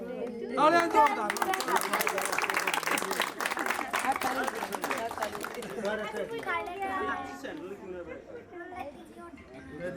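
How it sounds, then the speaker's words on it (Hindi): Applause and cheering at a birthday party right after the birthday song, a burst of clapping that swells then fades under excited chatter and voices, with people talking throughout. "तालियां जोरदार"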